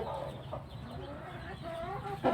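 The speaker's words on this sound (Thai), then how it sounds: "ตัวนี้นะครับ เจ้ากวดนะครับ จะเป็นไก่ที่เดินทำนะครับ" A Thai gamecock clucks in short, soft bursts close by, against a quiet outdoor background.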